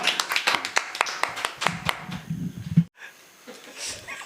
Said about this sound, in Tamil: உற்சாகம் அவர்களுக்கு ஒரு கரகோஷம் கொடுங்க.